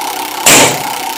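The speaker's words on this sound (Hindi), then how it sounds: "स्कूटर," A scooter engine sound effect: a sudden loud revving burst that cuts in partway through over a steady background hum, then eases back after a fraction of a second.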